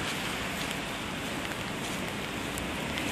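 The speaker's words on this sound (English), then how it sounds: "cold front mammoth, freezing rain in this area" Freezing rain falls during a cold-front storm in White Plains, Bronx, as a soft, continuous, fairly faint hiss with no voices present.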